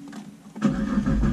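A car engine starts up close by, the starter cranking briefly before the engine catches and settles into a loud, steady idle, with no talk.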